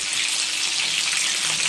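Chicken pieces searing in a hot frying pan give off a steady, loud, dense sizzle that stays even throughout, with no voices.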